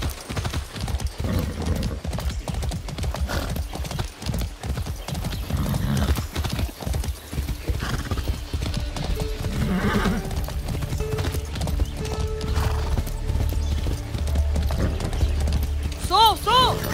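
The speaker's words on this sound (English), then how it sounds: "That's a good horse." Horse hooves clip-clop in a steady gallop in the Far Cry 6 video game, with a whinny near the end, under in-game music and characters talking.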